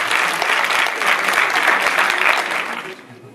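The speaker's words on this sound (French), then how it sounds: "Bravo, on peut les applaudir." Audience clapping at a festival awards ceremony, a dense burst of applause that fades out at the end.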